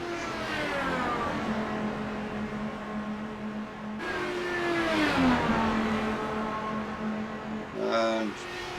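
Dallara DW12 IndyCar engine in the iRacing sim on the Charlotte oval, a steady high droning whine that shifts pitch as the car runs on, with a commentator talking over it throughout.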